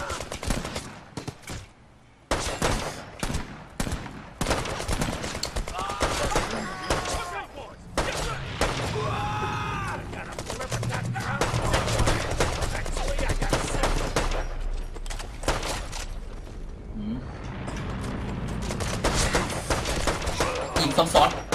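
Gunfire rattles in Brothers in Arms 3, with rapid bursts and scattered single shots repeating across the stretch, loud and close, while a player talks over the action.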